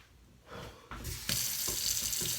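A kitchen sink tap is turned on and runs for hand washing, starting with a few splashes before swelling into a steady, close hiss of flowing water.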